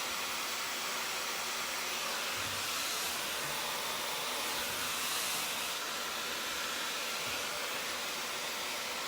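A hair dryer fitted with a diffuser blows on long curly hair, making a steady airy hiss and whoosh throughout, fairly close and constant, with slight swells in the airflow and no pauses.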